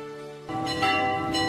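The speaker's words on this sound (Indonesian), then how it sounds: "Dentang lonceng gereja yang dibangun Pastor Yakob tahun 1998 telah berbunyi." A church bell rings for the Angelus at a church built in 1998, its sustained tones entering after a quiet half-second and holding steady at moderate loudness.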